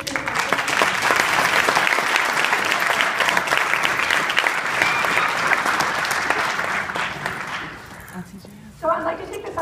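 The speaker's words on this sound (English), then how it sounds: "We have one round of applause for our first year student." A first-year student at a freshman first-semester awards event receives a round of applause from the audience, sustained dense clapping that fades near the end before voices and a brief burst of sound return.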